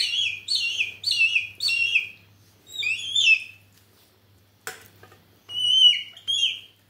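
A young hawk-eagle chick calls in bursts of high, downward-sliding whistled cries, four quick calls in a row, then a pause and a few more, loud and close against a low background hum.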